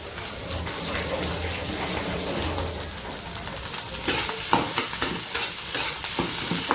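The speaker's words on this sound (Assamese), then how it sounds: "পিঁয়াজ আৰু জলকীয়া অলপ ভাজি লৈছোঁ" Potatoes, onion and chillies sizzle in hot oil while a utensil stirs them; steady sizzling gives way to sharper, rhythmic scraping strokes against the pan.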